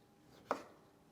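One crisp knife chop through vegetables on a cutting board while making a purple cabbage salad, a single quick close thud in an otherwise quiet kitchen.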